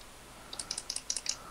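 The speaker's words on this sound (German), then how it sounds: "Ich höre dich immer nur mit der Maus klicken. Klack, klack, klack, klack." Rapid quiet clicking from a computer mouse during a Minecraft session, a quick irregular run of about ten sharp clicks over a faint steady background hiss.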